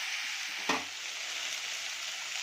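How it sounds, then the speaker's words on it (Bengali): Tomato frying in a home pan as rice finishes cooking alongside, a steady soft sizzle with one brief clatter of stirring near the start, no voices. "টমেটোটা দিয়ে একটু নাড়াচাড়া করে ঢাকা দেবো।"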